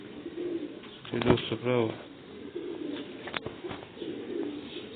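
Pigeons coo in a bird seller's yard in Sialkot, giving a few soft, throaty rolling calls up close, with someone talking over them.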